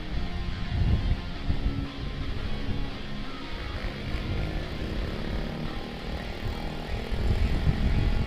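A TVS Ronin motorcycle fitted with a Trident exhaust rumbles and revs steadily with a deep, throaty drone, swelling at the start and again near the end, with no talking.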